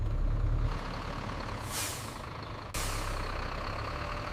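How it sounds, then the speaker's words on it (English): A school bus rolls in through school gates and stops, its engine rumbling under a sharp hiss of air brakes, followed by a sudden release burst. "the same bus finally rolled back through the school gates"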